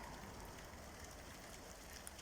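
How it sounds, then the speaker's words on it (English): Steady rain falling in the UK at night, a faint, even wash of raindrops with no voices, continuous for the whole stretch. "You can hear the raindrops"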